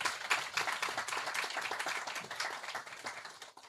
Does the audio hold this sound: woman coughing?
no